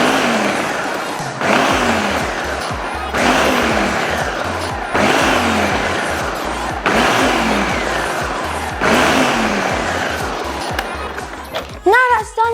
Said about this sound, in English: I'm going to pulsate this until my desired consistency